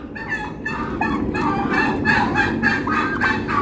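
Continuous gobbling and squawking from several fighting male turkeys, fairly close and loud, overlapping calls with no pauses throughout.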